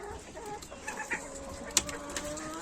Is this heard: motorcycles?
no